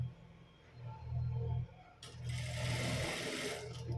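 Sewing machine stitching a puff sleeve, a close, steady mechanical whir that runs in short bursts with brief stops and restarts, louder in the second half.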